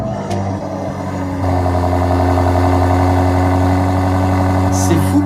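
A BMW SUV at a car auction idles with a steady, deep engine hum that steps up slightly in level after the first moment, then holds even and close.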